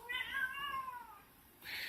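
A house cat gives one drawn-out, falling meow close by, followed by a brief hiss-like breathy sound, fairly quiet with no talk.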